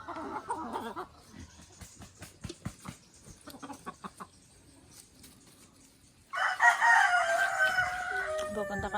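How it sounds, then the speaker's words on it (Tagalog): A rooster crows near and loud in a rural Philippine yard, with scattered clucks and soft background noise before the long crow bursts in near the end. "Ito na nga manok mo"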